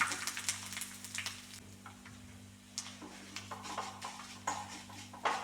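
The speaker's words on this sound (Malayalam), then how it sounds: "കറിവേപ്പിലയും കൂടി ഇട്ടു ഇനിയിപ്പോൾ ഒന്ന് നന്നായി മൂത്ത് വരുമ്പോൾ നമുക്ക് നമ്മുടെ പുളിശ്ശേരിയിലേക്ക് ഒഴിച്ചു കൊടുക്കാം" Hot tempering with curry leaves sizzles in a pan for a mango pulissery, a soft crackle with light ticks and scraping, faint and close, with no talking.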